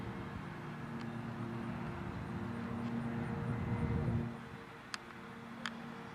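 An RC Dynam Tucano model plane makes a low inverted pass, its steady propeller and motor drone holding at moderate distance, then dropping away as it passes, with a couple of faint clicks afterward.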